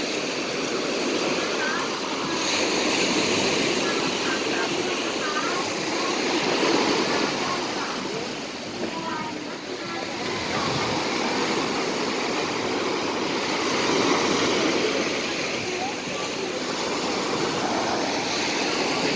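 Ocean surf rolls in steadily at Kalim beach in Phuket during a surf contest, a continuous broadband wash of breaking waves with gentle swells in loudness and no clear talk.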